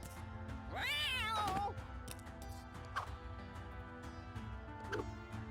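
A cartoonish cat meow rises and falls loudly in the Guild of Dungeoneering video game as a cat is thrown, followed by soft game clicks and faint chimes.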